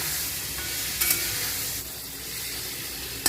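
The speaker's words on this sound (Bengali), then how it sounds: "দিয়ে দেবো নারকেল কুচি দিয়ে একসঙ্গে ভালো করে ভেজে নেব" Chopped tomato and grated coconut fry in a pan with turmeric and cumin powder for a vegetarian ghugni, a steady close sizzle with a few brief stirring scrapes and no talking.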